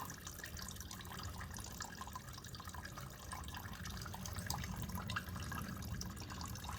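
Old gasoline drains out of the rusty tank of a Honda motorcycle in a faint, continuous trickle with small drips, heard quietly throughout.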